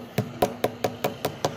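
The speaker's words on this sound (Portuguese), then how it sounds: "Baninho, vamos pegar esse prego aí, ó. E vamos bater aqui, ó." A hammer strikes a nail with seven sharp, evenly spaced blows, steady and close, against a faint background hum, with no talking.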